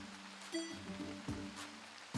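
Heavy rain falls in a Pokémon Legends Z-A video game scene, a faint steady hiss with a few soft tonal game sounds over it.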